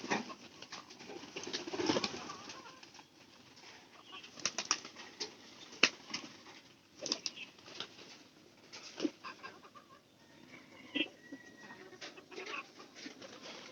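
Pigeons at feeding time on a corn ration flap their wings and coo in a loft, with irregular bursts of fluttering and soft calls at close to moderate distance, no voices.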